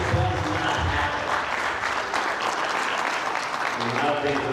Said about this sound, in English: I'd like to have everybody give her a round of applause